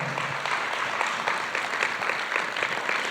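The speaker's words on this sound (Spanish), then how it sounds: "Dale un fuerte aplauso al Señor" A church congregation claps for the Lord, steady broadband applause from a large crowd that fills the room, continuous and close without pauses.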